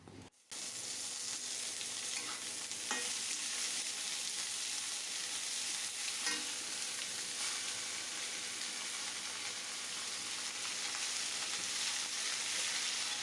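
Chopped ponka greens frying with onions and chili in a hot pan, a steady loud sizzle running nearly unbroken throughout with a few faint stirring scrapes.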